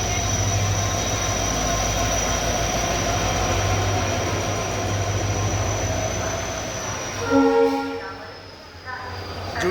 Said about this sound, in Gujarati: જૂનાગઢથી રાજકોટ જવા માટે લોકલ ટ્રેન.